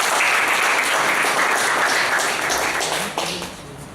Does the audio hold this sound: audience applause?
yes